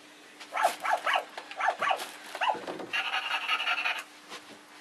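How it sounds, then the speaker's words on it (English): A puppy barks in a quick series of sharp, close yaps, followed by a longer stretch of higher whining or yelping, loud and alone in a quiet indoor room. "Why is Puppy so noisy?"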